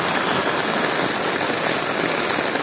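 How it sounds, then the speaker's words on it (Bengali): Dense, steady hiss of heavy rain pouring down, loud and unbroken, with no voices. "বৃষ্টির জন্য হাঁটতে পারতেছে না, এত বৃষ্টি হইতেছে।"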